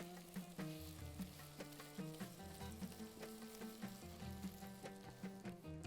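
Curry leaves and black lemon sauté in hot oil for a Bahraini seafood dish, giving a steady crackling sizzle with occasional stirring, partly under prominent melodic background music.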